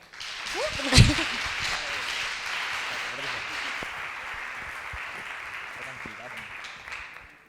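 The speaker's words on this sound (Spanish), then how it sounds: "Un fuerte aplauso para ella." Applause from a school audience at a TEDEd student talk event, a broad steady wash of clapping that swells after a brief shout near the start and then holds at an even level for several seconds.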